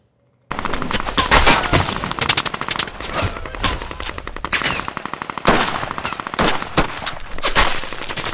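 A layered action-scene sound effects mix in which rapid machine-gun bursts and single gunshots play over swishes, dirt impacts and grunts, loud and dense throughout with sharp repeated cracks.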